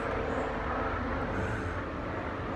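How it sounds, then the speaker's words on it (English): A propeller or jet airplane passing directly overhead, a loud, steady broadband engine roar that fills the whole stretch without fading, with no talking over it. "Plane flew right overhead. It got pretty loud."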